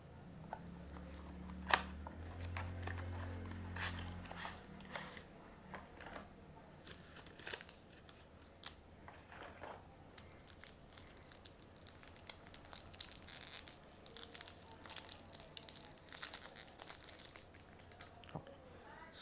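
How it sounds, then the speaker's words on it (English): Camlin Kokuyo Trinity pen package being unboxed up close, with faint, scattered crinkling, tearing and tapping of packaging over a long stretch, growing busier toward the end. "Let us now unbox the Trinity."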